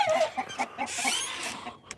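Chickens in a coop at night cluck in short, close, irregular bursts, a few quick repeated calls over a soft background.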